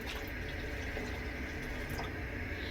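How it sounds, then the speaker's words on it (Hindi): A cup of water poured into milk in a cooking pot for homemade rasmalai, a continuous close pouring and splashing of liquid with no talk over it. "साथ ही इसमें हम 1 कप पानी ऐड कर देंगे।"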